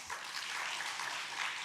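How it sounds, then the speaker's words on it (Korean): Church congregation applauding for a visiting missionary at a Wednesday service, a steady, even wash of clapping that holds at moderate level throughout, with no voices over it. "뜨겁게 박수 쳐주셔서 너무 감사합니다"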